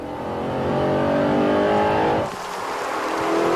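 An Audi R8 sports car engine revs up with a rising, loud roar, then the pitch drops sharply as it shifts and begins climbing again.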